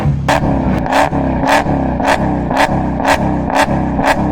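A straight-piped Dodge Hellcat V8 revs hard in a steady rhythm of sharp throttle blips, close and loud, each burst rising over a constant rumbling idle.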